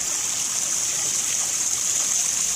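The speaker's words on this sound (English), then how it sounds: "You hear the sound of the waterfall, even at night in the house." Steady rushing water from a backyard pond waterfall, a continuous even hiss with no pauses, moderately loud and heard alone.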